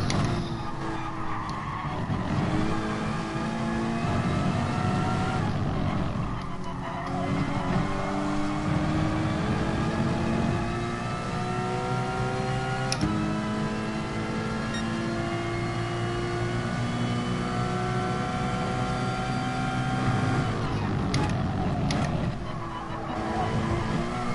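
Race car engine in GT Sport roaring and shifting pitch through gear changes in a loud, continuous drone that runs the whole time, with brief dips and swells as the car brakes and accelerates around the track.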